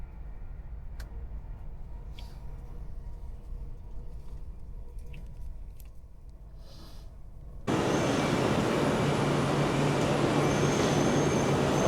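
A passenger train from Manchester to London rumbles along with a low, steady interior drone and faint clicks, then abruptly turns much louder and brighter, a rushing roar for the rest.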